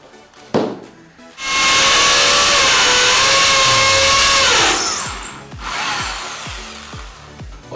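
A power drill whirs steadily for several seconds as it widens pre-drilled holes in a Durafloor skirting board, spinning down at the end, followed by a few short knocks and handling clatter.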